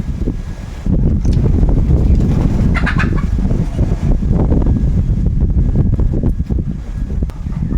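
Hens clucking nearby outdoors, a steady run of short clucks over low wind rumble buffeting the microphone for most of the span.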